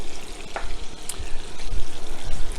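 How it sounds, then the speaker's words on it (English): Paneer frying in a cast iron pan, a steady sizzle running throughout with occasional louder crackles and spatters close by. "I fry it up in a cast iron pan, which works really well"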